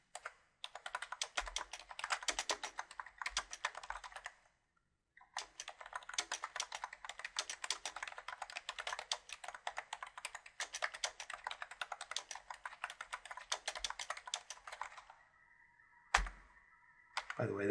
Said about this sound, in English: we're going to create a new paragraph tag and type in some more content.